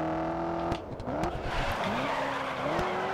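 Race car in the GRID Autosport video game spinning around under the handbrake, with sustained engine whine and long tire squeals and skidding that sweep up and down in pitch, loud and continuous.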